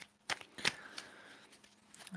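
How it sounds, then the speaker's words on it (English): Tarot cards shuffled by hand in a few quick riffling bursts with soft rustles between, fairly quiet and close, with no talking. "We're going to shuffle quite a bit here"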